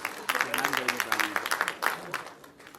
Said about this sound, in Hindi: शिल्पा जी के लिए जोरदार तालियां हो जाएं प्लीज